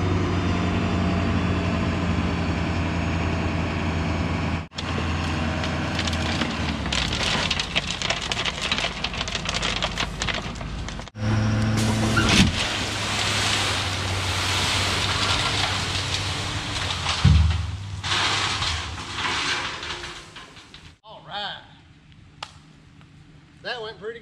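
A tractor running at full throttle while dragging a box blade over a gravel driveway, a loud, continuous engine roar with grinding, crunching gravel noise that surges and shifts, close throughout.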